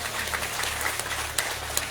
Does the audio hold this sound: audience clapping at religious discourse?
yes